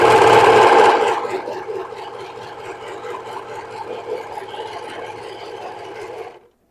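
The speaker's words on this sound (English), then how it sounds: "I'm going to stitch, overcast stitch this right up through here on both pieces" A sewing machine running an overcast stitch along fabric pieces, a loud continuous whirring hum that starts strong, settles to a steady mechanical drone for several seconds, then stops abruptly.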